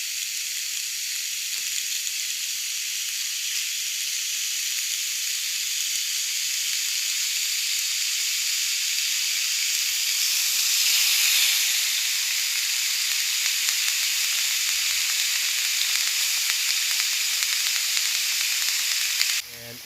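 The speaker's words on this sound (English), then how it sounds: "as I add the steaks to the pan, we are rewarded with the amazing sound of the sizzle" Steaks sizzle loudly and steadily in a hot pan, a constant bright crackling hiss that swells slightly midway, with no voices.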